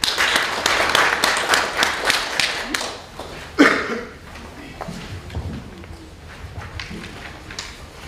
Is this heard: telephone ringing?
no